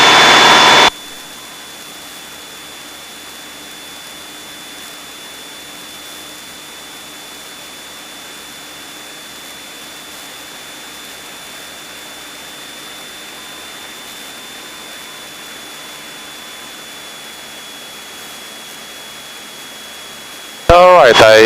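A Piper PA-28 Cherokee's engine drones steadily in flight, a constant low hum with a thin whine heard from inside the cabin, bracketed by brief bursts of louder radio or intercom noise at the start and end.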